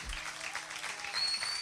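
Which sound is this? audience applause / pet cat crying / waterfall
audience applause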